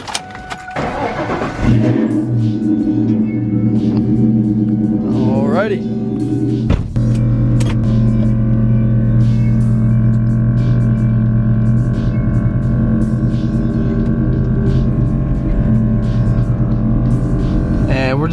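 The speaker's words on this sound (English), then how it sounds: "let's go ahead and pull this car out of the carport." A 1994–2004 Ford Mustang cranks and fires up near the start, then settles into a steady, loud, close engine hum as it pulls out of a carport, with a brief spoken word early on.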